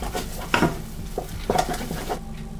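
A thick mashed potato mass is stirred in a pot on the stove, giving repeated scraping and thudding strokes of a spoon against the pot at an uneven rhythm, close and fairly loud.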